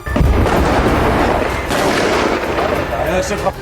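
Heavy bursts of gunfire and booming blasts crowd together as Israeli soldiers run into a house in Khan Younis, southern Gaza, loud and close, with voices shouting underneath.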